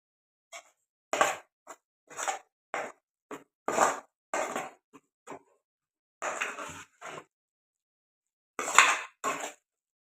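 A spoon stirs chilli powder into country chicken curry in a pan, making a series of sharp scraping and clinking strokes in uneven bursts, some clustered and some spaced out, with quiet gaps between them and no talk.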